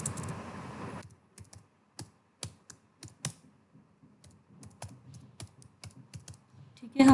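On a computer keyboard, C header files are typed as sparse, close, crisp key clicks in irregular bursts, following a short stretch of low speech, with quiet room between keystrokes.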